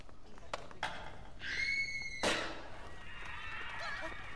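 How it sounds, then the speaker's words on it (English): In the L.A. Noire video game, a single sharp gunshot cracks out amid sparse ambience and a few brief honking tones, standing out loud and abrupt before the quiet background resumes. "I heard a gunshot."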